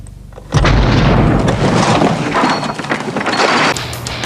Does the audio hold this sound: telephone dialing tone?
no